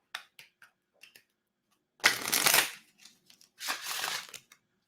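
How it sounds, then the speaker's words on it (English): Tarot cards are riffled twice in quick, crisp bursts, each lasting about half a second, with a few light taps between them, close by. "Let me shuffle one more time."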